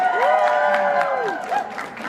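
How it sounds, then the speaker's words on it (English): A crowd at a book convention cheering and whooping for Nancy Drew, with a loud, sustained burst of voices, rising shouts and scattered clapping that begins to fade toward the end. "let's get some crowd reaction here"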